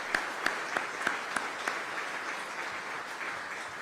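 An audience applauds at a city of Aurora innovation event. Several distinct claps stand out early over a faint, sparse patter, and the whole sound stays soft and distant.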